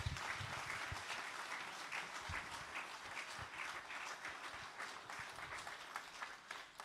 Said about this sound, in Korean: 정의순 은퇴권사님, 마상훈 안수 집사님 나오실 때 큰 박수 부탁드리겠습니다.